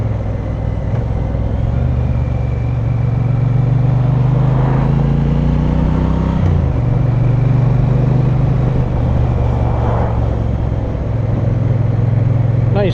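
A Triumph Bonneville T120 motorcycle is ridden on a demo ride, its engine a steady low drone close by, with gear changes and rising revs around the middle, mixed with wind noise and no talk.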